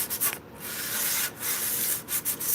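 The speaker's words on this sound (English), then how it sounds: "So, back to sanding." Hand sanding of a wooden spoon, steady close rasping strokes with brief pauses between passes, no voices.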